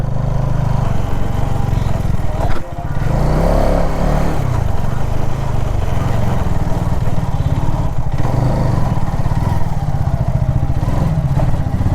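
A motorcycle engine idles close by, a loud, continuous low throbbing rumble that runs unbroken, with a short dip and bump partway through.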